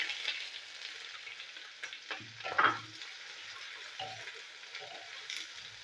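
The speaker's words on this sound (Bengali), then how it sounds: "এই পেঁয়াজ ভাজা হচ্ছে" Chopped onions fry in a pan with a steady, close sizzle. A few louder stirring scrapes rise over it partway through, and no one speaks.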